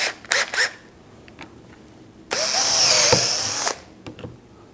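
A power drill whirs loudly for about a second and a half boring a shelf pin hole in wood, preceded by a few short clicks and bursts, then quiet handling noises.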